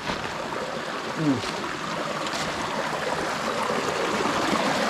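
Clear river stream flowing through a forest, a steady broadband rush of running water that stays even throughout, close and fairly loud, with a brief voice near the start.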